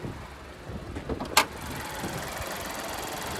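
A 2025 Chevy Trax's 1.2 liter turbocharged three-cylinder runs steadily at low volume, a constant mechanical hum heard from inside the cabin, with a brief sharp knock or click partway through.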